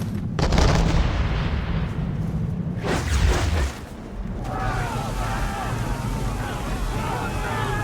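Booming cannon volleys fire from a sailing ship in Assassin's Creed 3, with heavy blasts and whooshes over a churning sea, followed by creaking and splashing as the battle noise rolls on behind shouted voices.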